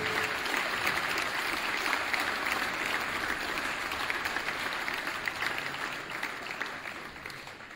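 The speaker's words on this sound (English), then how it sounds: "Please give your applause for those players." An audience at an athletic hall of fame ceremony applauds steadily throughout, a dense, sustained clapping that fills the hall and tapers slightly toward the end.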